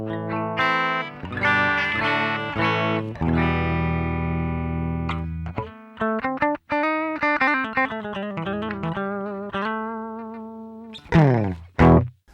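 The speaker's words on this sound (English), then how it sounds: "The first thing we're going to try out is the guitar plugged into the pedal and straight into the input of the amplifier." Electric guitar played clean through a Boss MT-2 Metal Zone pedal switched off, straight into an amplifier input: sustained chords and melodic single-note runs ringing out loud and steady, with a sharp strum near the end.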